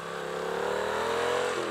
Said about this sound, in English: I wonder what kind of exhaust it has, because it's fucking loud.